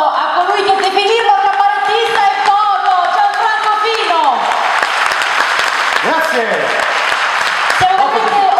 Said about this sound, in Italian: io voglio un grandissimo applauso